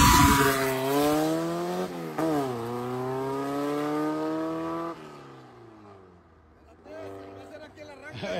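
A race car launches from the start and accelerates hard, its engine shrieking up through rapid gear changes with stepped pitch climbs, then fading away into the distance before another car's engine rises; voices are faintly present.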